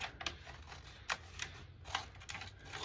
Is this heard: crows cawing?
no